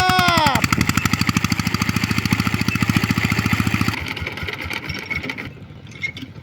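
Hand-cranked farm engine, started by turning a handle, running with a loud, steady rapid chugging that thumps evenly for about four seconds, then fades into rougher, quieter knocking with scattered background noise.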